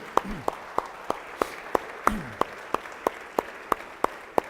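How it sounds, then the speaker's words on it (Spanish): A church congregation claps in unison, a slow, even beat of sharp single claps about three per second, fairly faint, with a voice briefly heard between claps. "le damos un aplauso al Señor."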